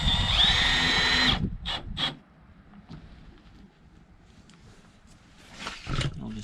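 A power drill drives a screw into aluminum angle trim on a full-height teardrop camper, whirring loudly for about a second before stopping, followed by a few short bursts and quieter handling noises.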